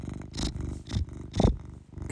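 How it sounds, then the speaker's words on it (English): A cat purrs close to the microphone in a steady rhythmic series of rumbling breaths, each purr cycle clearly audible and fairly soft, with no talking over it. "if you hear that noise, that's Bigsby purring"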